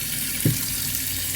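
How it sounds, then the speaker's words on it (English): Water running from a tap during a ginger harvest, a steady broadband hiss throughout the short moment with a small knock partway through. "Turn the water off."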